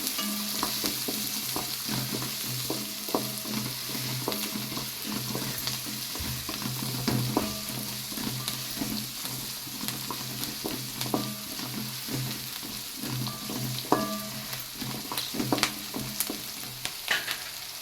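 Sliced onions fry in hot oil with fennel seeds for a tomato curry, sizzling steadily up close while a spoon stirs and scrapes the pan in irregular clinks and rattles.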